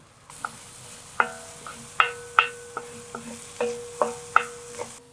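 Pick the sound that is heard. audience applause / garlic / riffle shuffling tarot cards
garlic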